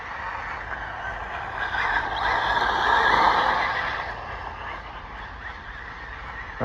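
A 3S RC road basher truck drifting on pavement, a steady high electric motor whine with tire scrubbing that swells louder midway then eases off as it slides past.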